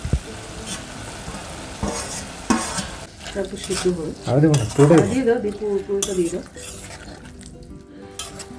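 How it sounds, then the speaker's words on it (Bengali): Finely cut chicken frying for shredded chicken bhaji, stirred continuously in a pan with clinks of the utensil against metal over a loud sizzle, and a brief voice-like murmur in the middle. "এটা এভাবে কন্টিনিউয়াসলি নাড়তে থাকতে হবে ধীরে ধীরে"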